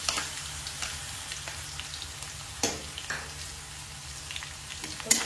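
Ginger garlic paste fries in a pan for a spicy chicken curry, a moderate steady crackle and sizzle with light stirring scrapes and a low hum beneath, no one speaking.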